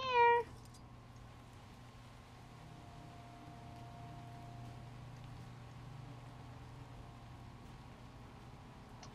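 A cat meows once in Guild Wars 2, a short bright call right at the start, followed by a steady low hum of game ambience for the remaining seconds.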